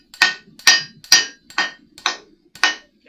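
Hot metal is hammered flat on an anvil in a forge: six loud, evenly spaced ringing hammer blows, each with a sharp clang and short decay, no talk.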